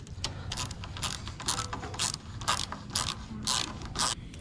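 A ratchet clicks in quick repeated bursts while bolts are snugged down into the aluminum crankcase of a mud motor during a DIY install, close and fairly quiet, with no talking.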